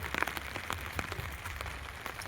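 Heavy rain falls on paddy fields, a dense, continuous patter with scattered louder drops hitting nearby surfaces, fairly faint overall.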